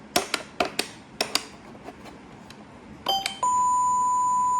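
A mini arcade machine in sound test mode plays a series of sharp electronic dings and chimes in an irregular rhythm, followed by a short cluster of tones and then a sustained steady beep.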